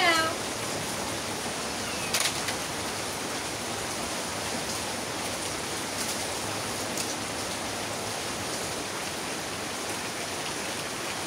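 A cat meows briefly near the start, with a second short call a moment later, over a constant hiss of steady rain.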